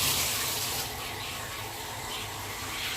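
Tap water pours steadily into a bathtub, a continuous hissing gush at moderate level that stays even throughout, heard alone without speech.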